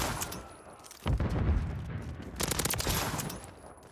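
Rapid bursts of Renetti pistol fire in Modern Warfare 3 multiplayer, two clusters of sharp shots separated by a brief lull, fairly close and punchy against a low game background.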